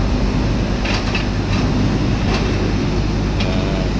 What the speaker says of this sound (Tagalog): Ayan o, hinihila na yung aeroplano.